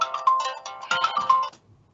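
A mobile phone ringtone plays during a licensing panel meeting, a bright, melodic electronic tune of several quick notes in two phrases, fairly clear and close, then stopping abruptly.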